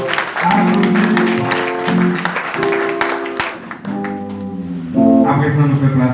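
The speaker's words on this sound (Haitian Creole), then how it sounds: "Applaudissements s'il vous plaît." Audience applause at a festive celebration, a steady clatter of clapping mixed with sustained musical tones and voices, loud and close throughout.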